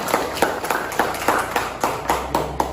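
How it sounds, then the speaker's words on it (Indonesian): A classroom of pupils claps in an evenly spaced rhythm, roughly four claps per second, sharp and moderately close, with a faint low hum underneath. "terima kasih, tepuk tangan untuk semuanya"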